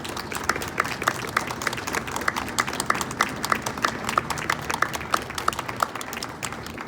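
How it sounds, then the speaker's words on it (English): Sustained applause from an audience at a university Veterans Day ceremony honoring veterans: a dense, steady wash of many hands clapping at an even level throughout, with no voices standing out. "Ladies and gentlemen, please join me in a round of applause for our veterans."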